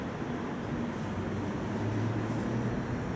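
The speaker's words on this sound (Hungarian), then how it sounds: "Személyvonat érkezik Monorról a Vágányra." A passenger train from Monor pulls into Budapest Zugló station on its way to Budapest Nyugati, a steady low rumble of wheels and engine that stays loud and even throughout, with no talking.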